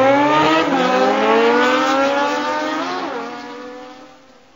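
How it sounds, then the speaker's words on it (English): A cartoon motorcycle sound effect from a children's alphabet learning app on iPhone: a loud, smooth engine rev that climbs and sweeps in pitch, then fades out toward the end, alone with no talking. "Motorcycle."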